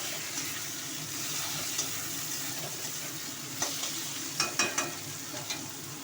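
Tomatoes, chillies and fried onions stirred in a pan, a low steady sizzle with a cluster of sharp spoon scrapes and taps toward the end, close and quiet, no voices.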